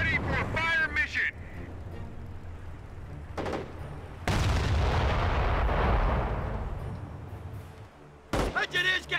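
Artillery from a fire mission in the Company of Heroes video game booms loud with a long rolling rumble, between short bursts of game voices and lighter gunfire before and after.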